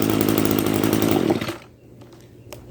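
An old Echo string trimmer's small two-stroke engine runs loud and close just after a pull start, a buzzing rattle that cuts off abruptly partway through, leaving a quiet tail with a few light clicks.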